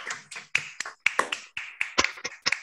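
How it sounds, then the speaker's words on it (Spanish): Scattered clapping from a small online audience over open microphones, uneven and sparse, with individual claps popping out close and sharp, no voices. "abrimos los micrófonos para un aplauso general"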